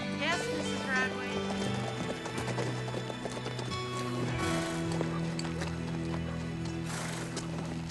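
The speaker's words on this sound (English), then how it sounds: "I see you finally found our horses" Horses' hooves clip-clopping at a walk in a Western drama scene, with whinnies and a musical score running beneath, moderately close and continuous.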